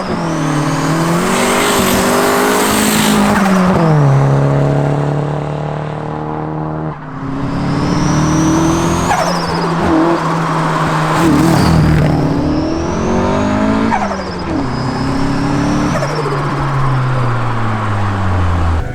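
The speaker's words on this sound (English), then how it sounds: "It's just misfiring, can you hear that?" A turbocharged car engine misfiring on fouled spark plugs, revving loudly and continuously up and down with rough, uneven bursts and occasional chirps, close by with no talking.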